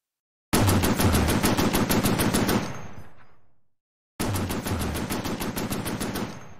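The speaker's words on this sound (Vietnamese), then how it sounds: "Khẩu tiểu liên trong tay Anh Tử liên tiếp bắn ra từng loạt đạn" A submachine gun fires two long, loud, rapid bursts in an audiobook sound effect. The first burst trails off into a fading echo, and after a brief silence the second burst follows.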